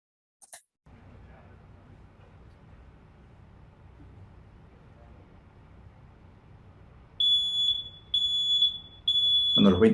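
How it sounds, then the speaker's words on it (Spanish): In a fire sprinkler demonstration room, a smoke detector sounds three loud, piercing shrill beeps after a stretch of low background hum, the last continuing as other noise joins in. "a los 20 segundos se activa el detector de humo"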